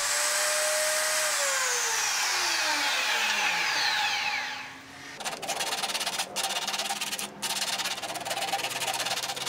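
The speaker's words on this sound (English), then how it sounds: "I prep the broom handle by cutting a thin wedge off one side" A power saw blade winding down in pitch, then slicing a thin wedge off a wooden broom handle with a steady rough buzzing cut and a couple of brief dips, loud and close.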